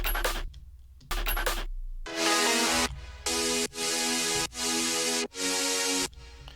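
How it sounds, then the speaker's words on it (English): A heavily detuned supersaw base layer programmed in FL Studio, playing loud, bright sustained chords in choppy blocks with short gaps between them, alone with no voice. "basically it's just really detuned Supersaw"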